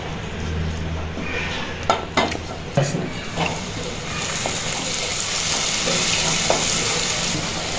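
Onions frying in three spoons of hot oil for a Punjabi-style rajma masala, a steady close sizzle that swells louder midway, broken by a few sharp clinks and scrapes of a spoon against the pan.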